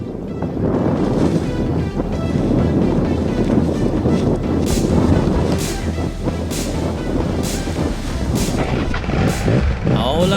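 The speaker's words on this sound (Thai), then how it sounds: "วันนี้มีพายุฝนห้าลมโคตรแรง แรงสาใจ" Strong storm wind buffets the microphone at a paramotor flying site, a steady heavy roar and rumble with gusty low thumping throughout and no break.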